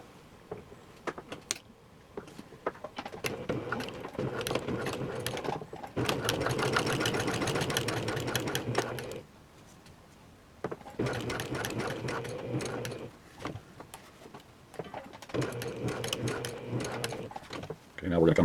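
A home sewing machine sews a pants seam in several bursts of steady whirring stitching separated by pauses, close and fairly loud, while a person talks over and between the runs.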